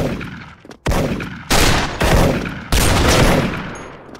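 M82 Barrett sniper rifle fire in the shooter game Special Force: a quick run of heavy, booming shots, each sustained and loud, fills the brief stretch with almost no gaps.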